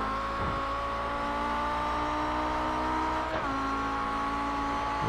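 Race car engines howl as cars accelerate along the front stretch of the track toward the Tarzan corner, a loud sustained whine that climbs in pitch, with a gearshift dip partway through.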